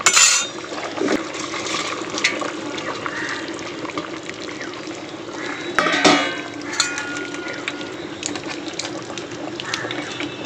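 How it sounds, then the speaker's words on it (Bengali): Water is poured into a simmering vegetable and fish curry in a pot, a continuous near splashing and gurgling pour with a few clinks of utensils against the pan. "এবার দিয়ে দেবো জল"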